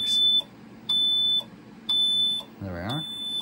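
An ITI CS-4000 central station alarm receiver beeps three times in a steady rhythm, each tone held about half a second, followed by a short burst of a lower voice-like sound.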